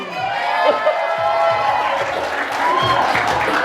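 A crowd at a Tau Gamma fraternity anniversary event applauds, cheers and whoops for the founder's closing remarks, sustained and lively, with voices calling out over the clapping.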